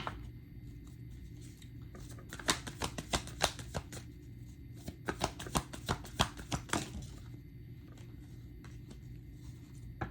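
Tarot cards being shuffled and drawn: a quiet, close, crisp run of riffling and snapping card strokes in two bursts, each a rapid series of sharp flicks, over a faint steady background hum.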